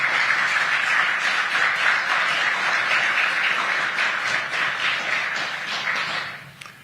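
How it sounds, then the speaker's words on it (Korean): Dense, steady audience applause fills a Korea–US business roundtable as the South Korean president is welcomed. It stays loud and continuous for about seven seconds before tapering at the end, with no talking over it. "큰 박수 부탁드리겠습니다"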